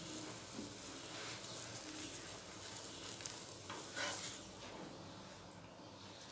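Beetroot paratha frying in a pan gives a steady, soft sizzle and hiss throughout, with light scraping and stirring sounds.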